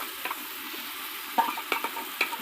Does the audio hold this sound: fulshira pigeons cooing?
no